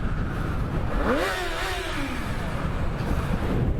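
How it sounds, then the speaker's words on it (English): Car exhaust revving inside a tunnel, a single rising and falling engine rev echoing under constant road and cabin rumble, with no talking. "ready for some exhaust in the tunnel?"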